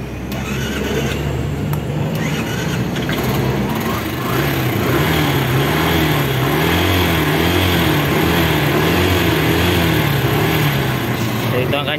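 A Kawasaki motorcycle engine, a CT125 business-type bike choked for warm-up, runs steadily and loud throughout with a wavering low pulse, rising slightly in level partway through.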